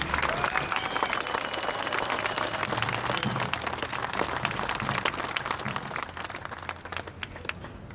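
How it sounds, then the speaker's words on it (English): Crowd at an outdoor gun rights rally in Ohio clapping for a speaker from a concealed-carry group, a continuous moderate patter of applause that thins out toward the end, with a faint high electronic tone running underneath. "so let's give Chuck a big round of applause."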